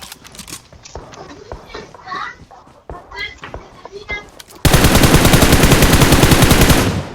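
BGMI gameplay on the Livik map on an iPhone 11: scattered in-game sounds and footsteps under a player's talk, then a loud sustained burst of automatic gunfire that rattles on rapidly to the end.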